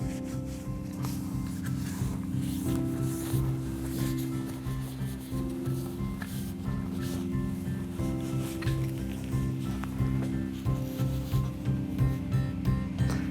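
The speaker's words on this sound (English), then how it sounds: "Wipe down with a lint-free cloth." Continuous rubbing and wiping sounds, a lint-free cloth scrubbing back and forth over an Air Arms FTP900 air rifle in steady strokes, close up with a faint mechanical hum beneath.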